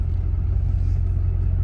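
A 2004 Chevrolet Silverado 2500HD pickup idling and creeping forward and back, a steady low engine rumble heard up close with no talk.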